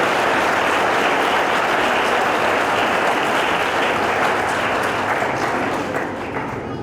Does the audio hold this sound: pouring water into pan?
no